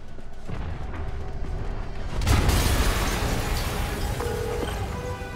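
An explosion in the video game Marvel's Spider-Man: a broad, rumbling blast swells suddenly and then lingers as a dense roar, loud and close, with no talking.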